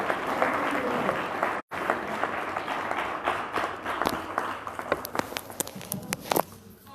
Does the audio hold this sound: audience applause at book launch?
yes